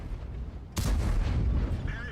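A tank cannon fires in World of Tanks, one sudden loud blast followed by a rumbling, decaying boom that fills the rest of the moment, with a faint high whine near the end.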